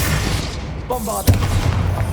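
Bombarda explosion spell cast in Hogwarts Legacy, a single sharp blast near the middle followed by a rumbling boom, heard over continuous game ambience with a brief voice calling out just before it.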